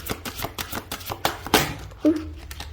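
Tarot cards shuffled by hand, a series of soft riffling and tapping bursts close by, with a brief louder flutter midway.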